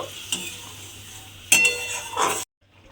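Fried prawns cooking in a pan over lowered gas, a close, moderate sizzle with a few clinks and scrapes of a spoon, ending abruptly in near silence.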